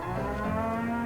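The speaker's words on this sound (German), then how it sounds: "Noch mehr Kühe." Cows moo in the Wallace & Gromit game Muzzled, a single long, deep, resonant bellow that holds steady and loud for about a second, with no talking.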